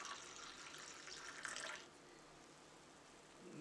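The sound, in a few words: water poured into Mauby concentrate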